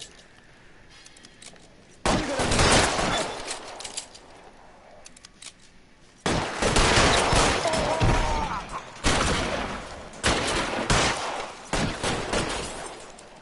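Gunfire bursts in the SF Blanc video game, loud sustained volleys starting after a quiet stretch, then a second heavy barrage with repeated rapid shots continuing to the end.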